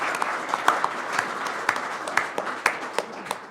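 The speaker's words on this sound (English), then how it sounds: "Round of applause for them." Audience applause at a business executive forum, a moderately loud steady wash of many hands clapping with distinct individual claps popping out near the front, continuous for several seconds without speech.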